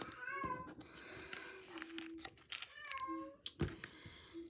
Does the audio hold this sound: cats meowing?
yes